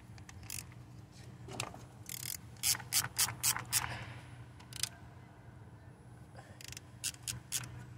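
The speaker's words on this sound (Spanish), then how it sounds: "quitamos esos tornillos, los aflojamos." Ratchet wrench working loose the ignition coil screws on a 2006 Toyota RAV4, giving several bursts of close, quick clicking separated by brief pauses over a low background hum.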